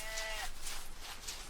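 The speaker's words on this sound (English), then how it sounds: "Oh, pig's going crazy again." A pig in the horror video game Paranormal P.I. squeals and grunts in a short burst of about three close, loud, pulsing calls, with no talk.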